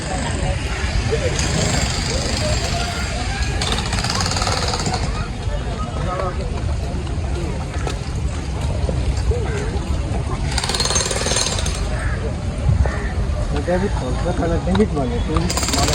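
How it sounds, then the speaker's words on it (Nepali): A jackhammer pounds steadily at a construction site near a busy tourist spot in Pokhara, a continuous rattling drone mixed with traffic and crowd noise while people talk nearby. "यस्तो निर्माण कार्यहरू पनि हुँदै रहेछ है यता चाहिँ"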